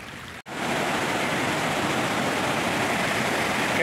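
Steady broadband rush of water flowing from natural springs outdoors in the Paracho and Uruapan area of Mexico, loud and continuous after a brief gap near the start, with no talk.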